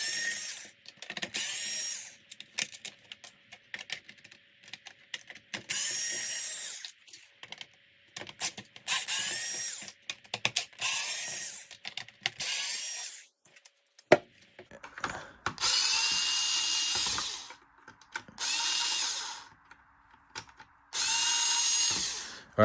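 A cordless screwdriver whirs in repeated short bursts while screws are backed out of a Dyson V7 vacuum head, each spin a second or two long, separated by quiet pauses and small clicks of handling.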